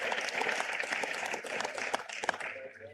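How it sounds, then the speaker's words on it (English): An audience claps and applauds at a football all-star game draft event, a short burst of close, dense clapping that fades out toward the end. "Let's give Jace a round of applause"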